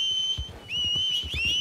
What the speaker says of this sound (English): What's your whistle sound like?